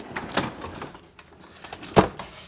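A middle drawer slides open with scraping and a sharp bump, then light rattles of its contents, close and moderately loud.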